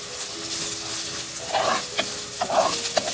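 Onions frying in a teaspoon of oil in a clay mud pot for Kerala fish moilee, a low hiss with bursts of crackle and a few stirring taps, close, no voices.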